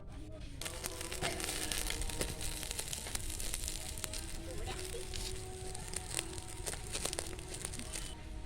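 Eggplants roast on a wire grill over a lit clay stove fire in a village kitchen. The fire gives a quiet, steady crackle and sizzle, with scattered sharp pops and snaps throughout.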